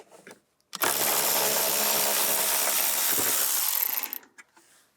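A 13 mm bolt on the center console of a 2006-2010 VW Beetle is loosened with a tool that gives a close, steady, continuous mechanical whirring rasp lasting about three and a half seconds, then stops.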